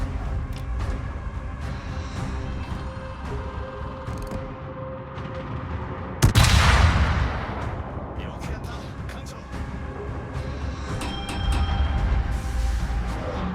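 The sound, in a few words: ship guns firing in a naval video game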